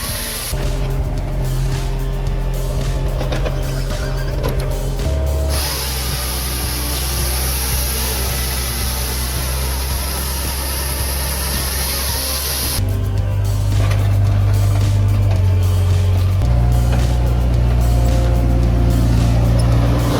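Homemade wood cutting machine driven by a 1.5 kW electric motor with a 1:25 gear ratio, splitting firewood with a loud, continuous motor drone that shifts pitch and intensity as it works, with no talking.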